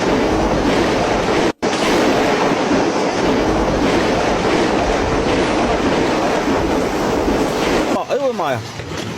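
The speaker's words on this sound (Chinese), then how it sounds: "这么大的冰雹，你的头能接几个？" Large hailstones batter down in a heavy hailstorm, a loud, unbroken roar of rattling impacts with one brief gap early on and a voice cutting in faintly near the end.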